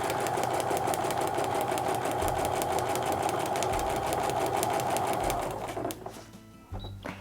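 A sewing machine runs steadily as it stitches back and forward to lock the start of a seam, making a rapid, even mechanical rattle close by. It slows and stops near the end.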